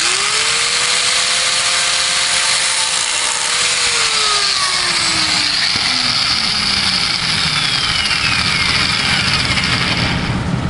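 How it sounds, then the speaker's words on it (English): A cheap Ryobi angle grinder spins up with a rising whine that then drops in pitch as it loads, cutting friction material for a Puch E50 moped clutch, loud and steady throughout. "Alright, we're going to do our first cuts. Angle grinder, Ryobi, very cheap at the Lowe's"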